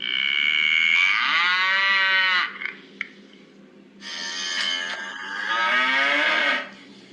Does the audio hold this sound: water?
no